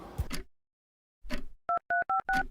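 Four quick touch-tone beeps from a phone keypad, clear and close, following a few brief rustling sounds and a moment of silence.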